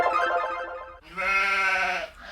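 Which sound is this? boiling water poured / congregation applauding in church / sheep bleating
sheep bleating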